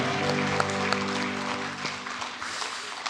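A congregation claps in praise during a Sunday church worship service, a soft, continuous wash of many hands under sustained organ or keyboard chords, fairly distant and even.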